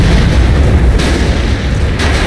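Loud, continuous booming explosions from the video game The Saboteur rumble back to back, dense and heavy, with low roaring blasts filling the short stretch.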